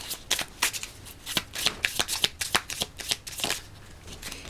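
A deck of tarot cards being shuffled by hand, a run of crisp rapid riffling bursts in an irregular rhythm, close and fairly loud, with no talk.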